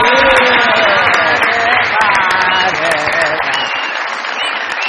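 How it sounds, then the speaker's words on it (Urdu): A studio audience at a comedy talk show applauds in a loud, dense burst of clapping that slowly tapers, with voices and a few cheers mixed into the crowd noise. "جی بہت ساری تالیاں احسن بھائی کے لیے"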